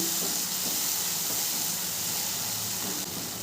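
Mustard, green chilli and poppy seed paste fries with a splash of water for a fish jhal, giving a steady, close hiss and steamy sizzle that holds evenly throughout, with no talking.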